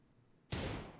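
A sudden loud burst of gunfire in Rimworld combat erupts after half a second of quiet, a dense rattling volley that holds strong before tapering slightly.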